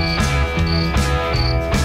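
A mole cricket (gangsir) sings close by in a steady, loud chirping trill that repeats in regular pulses about every third of a second, alone with no voices.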